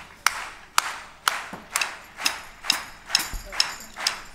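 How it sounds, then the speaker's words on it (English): Clapping along in time at a live drumming trio performance: sharp, evenly spaced claps, about two per second, eight or nine in a row, crisp and fairly close. "want y'all to clap with me"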